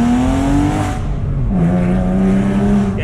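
A Porsche sports car with a manual gearbox revs hard and loud close by. The engine note climbs, drops at a gearshift, then holds a steady roar.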